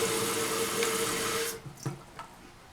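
Water rushes steadily through the refill tube of a toilet fill valve, a close hissing flow that cuts off abruptly partway through, followed by a few faint drips and clicks.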